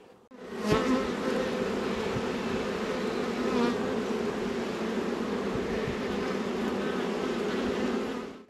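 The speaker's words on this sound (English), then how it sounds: "There's a drone bee right there." Honeybee drones buzz inside an open hive during a spring inspection, a dense, constant close-up drone of many insects with a few louder passes near the ear.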